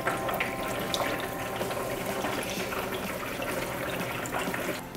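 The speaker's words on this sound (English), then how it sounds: "Now it's pumping." Small pump circulating vinegar through a tankless water heater to descale it, giving a steady rushing, gushing water sound at moderate level with a constant mechanical hum beneath.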